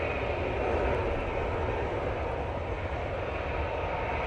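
A Virgin Atlantic airliner lands at Manchester Airport in strong wind, its engine roar a loud, steady, broadband rush mixed with gusting wind noise that never lets up, with no voices.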